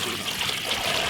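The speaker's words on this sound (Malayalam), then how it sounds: "ഓയിൽ ഒഴിച്ചു കൊടുക്കാം." Oil is poured into a fish pakora batter mix in a steady, continuous trickle, soft and close, with no voices over the pour.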